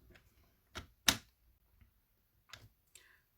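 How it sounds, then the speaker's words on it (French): A 5 cm paper square is folded along its diagonal for origami, giving a few soft, crisp paper creaks and taps spaced irregularly, close and quiet. "je vais faire un pli sur sa diagonale."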